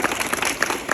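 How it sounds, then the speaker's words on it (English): Brief burst of audience applause for technical personnel at a TEDx event, loose individual claps from a crowd briefly mixed together in a short, moderately loud patter. "Let's give them a round of applause."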